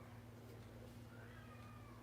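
A single indoor cat named George, kept apart from the other cats, yowls insistently to come upstairs, a faint, steady, drawn-out cry heard at a distance against a low hum.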